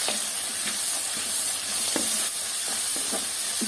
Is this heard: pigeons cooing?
no